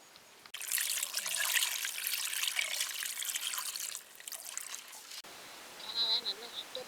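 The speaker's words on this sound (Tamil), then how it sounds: "கனவாயை தண்ணி ஊற்றி சுத்தம் பண்ணி வறுக்க போகிறோம்." Water pours and splashes over squid being cleaned, a close, bright rushing trickle lasting several seconds, then stopping, followed by quieter dribbles and faint handling sounds.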